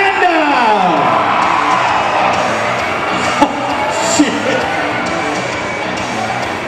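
A dancehall crowd at a bikini contest cheers, whoops and applauds loudly and continuously for a contestant, a dense wash of yells and clapping with a couple of sharp bangs.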